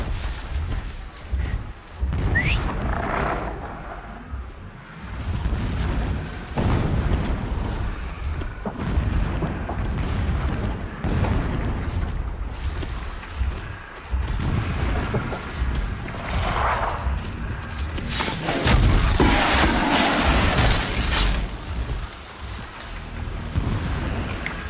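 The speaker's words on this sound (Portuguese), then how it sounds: "Explosões ao longe." Distant explosions in the video game Horizon Zero Dawn rumble and boom across a steady, loud game soundscape with no talking, several heavier bursts swelling near the middle and again near the end.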